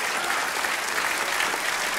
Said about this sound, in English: All right, round of applause for this gentleman.